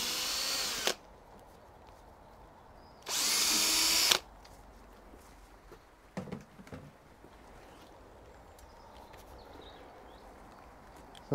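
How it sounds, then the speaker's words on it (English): A power drill whirs in two short bursts while drilling a pilot hole, the second burst longer, with quiet handling clatter between. "So first I'm drilling a little pilot hole."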